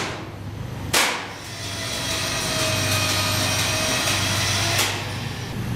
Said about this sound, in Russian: При пропадании напряжения ввод один у нас отключился, и включился у нас секционник.